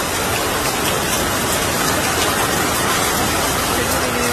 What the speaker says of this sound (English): Pieces of ice falling in Canada.